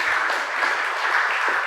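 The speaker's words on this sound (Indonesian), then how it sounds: "Berikan aplaus. Tepuk tangan yang paling." A church congregation applauds at a worship service, a dense, steady wash of many hands clapping together for under two seconds with no voices over it.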